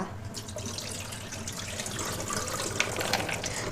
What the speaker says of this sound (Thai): ตอนนี้นะคะเราก็ซาวนะคะล้างพวก คราบสกปรกคราบฝุ่นต่างๆนะคะ ออกจากถั่วนะคะ